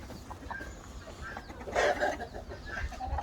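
Guinea hens cluck softly in short bursts, with a louder flurry of clucking midway, over a busy farmyard background.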